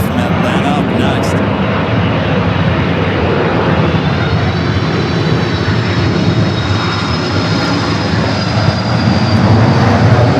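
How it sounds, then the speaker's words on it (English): A Delta Boeing 767-300ER arrives at Los Angeles airport from Atlanta, a loud sustained engine roar with a rising whine, under intermittent radio-style talk. "the Delta 767 and 300ER coming from Atlanta up next"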